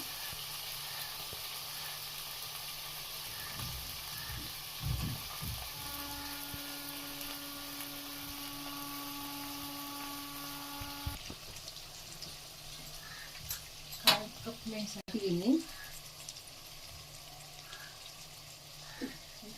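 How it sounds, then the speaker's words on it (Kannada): A steady sizzling hiss of keema frying in hot oil tempering runs throughout, with a few clinks and scrapes near the end. "ಈಗ ಕೈಮ ಒಗ್ಗರಣೆಗೆ ಹಾಕಿದ್ದೀನಿ"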